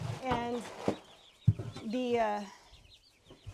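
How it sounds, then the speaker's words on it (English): Excited turkeys gobble and call in loud, wavering bursts close by, with a voice briefly over the birds. "my turkeys are doing great over here, and I don't know if you guys can hear them or not, but they're going crazy right now."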